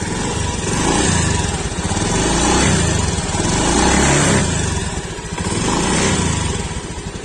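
A used motorcycle engine at an auction inspection is revved by hand, rising and falling through several throttle blips over a steady, close, buzzy idle with a faint rattling ticking.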